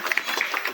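An audience claps for a performer at a gondhal folk gathering, a rapid scattered patter of hand claps that is fairly close and loud for under a second.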